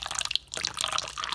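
Water poured steadily into a container for a heat transfer lab, a continuous close splashing trickle with drips, no talk.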